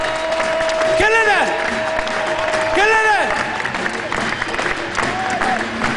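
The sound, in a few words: applause for Alessandro Del Piero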